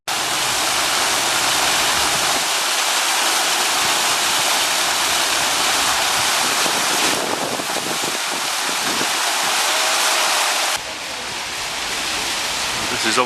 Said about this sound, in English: This is obviously quite an attraction for children here, these little fountains.